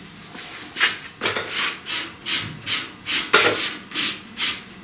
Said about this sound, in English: a little light hand sand. I'm just being real gentle here